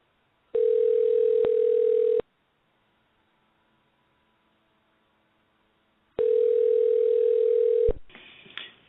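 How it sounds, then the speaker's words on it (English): A telephone line during a live on-air call gives a steady dial tone, a pause, then another long tone before the call connects, with faint noise at the end. "I'm going to dial him live now on the air."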